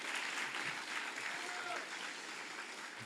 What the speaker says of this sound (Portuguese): Uma salva de palmas para o doutor Pedro aí.